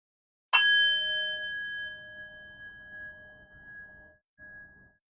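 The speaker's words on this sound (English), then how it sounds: "in just a moment I will ring the bell, ending our first round of meditation" A single meditation bell is struck once at the end of a live meditation round, ringing out clearly with a sharp onset and a long, slowly fading tone in a quiet room.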